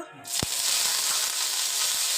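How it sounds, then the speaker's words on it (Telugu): Chana dal, urad dal, curry leaves, dried red chillies and mustard seeds hit hot oil for a tempering, giving a sharp crackle followed by a steady, close sizzle with no talking. "శనగపప్పు మినపప్పు కరివేపాకు ఎండుమిర్చి ఆవాలు వరకు వేసి పోపు పెడుతున్నాను"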